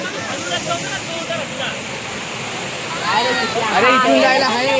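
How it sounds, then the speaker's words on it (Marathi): A small waterfall at Chirmadevi in the Thane jungle gives a steady rushing wash of water, with voices talking over it in the second half. "छोटासा वॉटरफॉल आणि इथे आहे थोडीफार म्हणजे माणसं आहेत"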